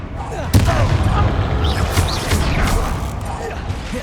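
Spell blasts in the Hogwarts Legacy game, a sharp explosive crack followed by booming, crackling impacts and whooshing magical effects during combat, with voices speaking over the action.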